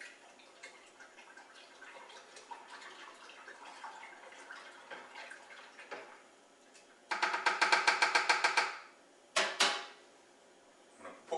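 Stirring freshly pitched liquid yeast into homebrew beer wort in a fermenting bucket: soft sloshing gives way to a rapid burst of rhythmic scraping strokes, then a couple of sharper knocks, close and alone.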